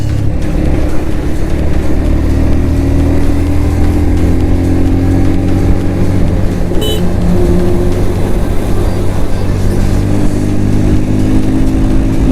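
A 125 cc motorcycle ridden along a highway, its engine droning loud and steady with constant wind rush throughout and no talking.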